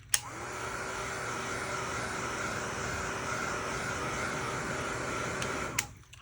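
Heat tool drying paint on a rose painting, a steady, moderately loud blower whine with a constant hum that switches on, runs evenly for about six seconds, then cuts off.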